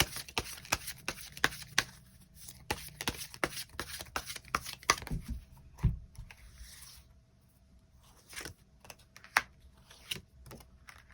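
Tarot cards shuffled and drawn during a reading, giving a run of quick, soft crisp snaps and flicks at close range, with brief pauses between bursts and no talking.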